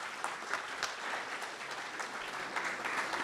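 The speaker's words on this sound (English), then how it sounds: "Can we give a round of applause to our speakers?" Steady applause from a community forum audience on the arts in Lancaster County, thanking the speakers; a dense, even wash of clapping heard alone at moderate distance.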